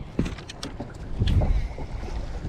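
A motorized kayak moves across a lake with low rumbling water and hull noise, rising wind buffeting the microphone and a few light knocks, fairly close, no speech.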